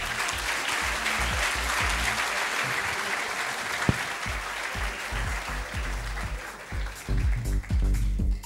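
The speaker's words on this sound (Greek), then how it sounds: "να μου επιτραπεί να ζητήσω ένα ακόμη πιο δυνατό χειροκρότημα" Sustained, dense applause from the audience at a Greek sports awards ceremony, loud and steady throughout, with a louder, choppier swell near the end.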